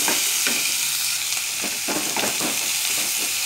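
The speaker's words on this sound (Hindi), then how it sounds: "इसे अच्छे से मिला दूँगी" Green chillies and curry leaves are stirred in a hot oily pan. A constant loud sizzle runs under repeated rhythmic scraping strokes of the spoon.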